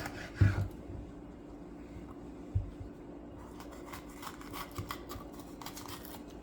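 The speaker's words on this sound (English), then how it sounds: "So we're gonna just cut this yellow pepper." Sharp knife cutting a yellow pepper into small pieces for an octopus, shrimp and squid salad, a few soft thuds on a board followed by light scattered tapping and scraping, close and quiet.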